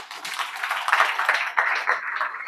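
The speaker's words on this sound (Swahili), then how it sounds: "Basi tuongeze makofi" A church congregation clapping during a men's week service, a crowd of hands clapping in a fairly even rhythm at moderate loudness.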